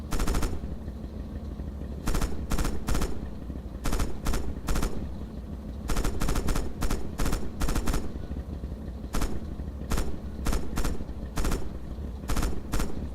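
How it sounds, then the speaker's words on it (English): Tank hull machine gun in Red Orchestra 2 fires repeated short bursts, loud rattling volleys separated by brief pauses throughout, with no talk. "Use the hull MG and open fire on the targets."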